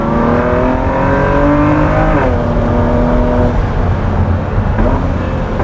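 A Ford GT Carbon Series accelerates hard from inside the cabin, the engine note rising loudly through the gears with a brief dip at a shift.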